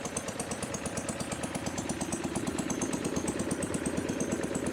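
A restored Delco Light generator plant engine runs steadily, its rapid, even putter of firing pulses and mechanical clatter sounding close and continuous throughout, with no talking.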